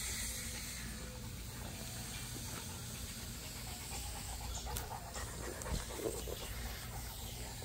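Dogs panting around feeding time, a soft continuous rapid breathing heard close and quiet against a faint hissy background, with no talking.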